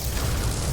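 A dense, roaring blast from gunfire in the game No Man's Sky fills the whole short stretch, a loud, continuous rumble with no pause and no voices.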